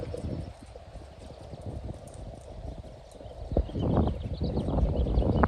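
Tennessee Walking Horse hooves striking arena footing in a steady, close clip-clop that grows louder and busier in the final seconds, with no talk.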